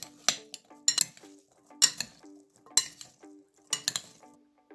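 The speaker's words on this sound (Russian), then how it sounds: "Смешаем все ингредиенты." Repeated clinks and scrapes of utensils against a bowl while mixing beet salad ingredients, in four or five bursts with short pauses between, close and fairly quiet.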